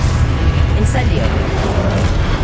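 A loud, sustained fiery blast from the Incendio spell in Hogwarts Legacy, a dense continuous roar filling the whole moment, with a voice in the background.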